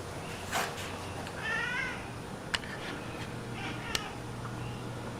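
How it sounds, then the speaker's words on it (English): A cat meows a few times in the background of a garage where a 1999-2006 Chevy seat bottom is being repaired, faint and intermittent over steady room noise, with a couple of sharp clicks. "Yeah, that's the cat in the background."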